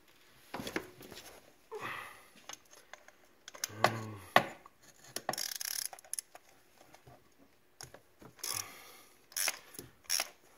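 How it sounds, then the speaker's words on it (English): A ratchet works a 5/8 spark plug socket on a 5.0 Coyote engine in a 2011–2017 Ford F-150, giving irregular close clicks and metallic rattles in short bursts with pauses between them. "Ratchet."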